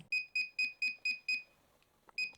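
A handheld metal detector near metal gives six evenly spaced, bright electronic beeps, then a short gap and one more beep, close and fairly quiet with no talking.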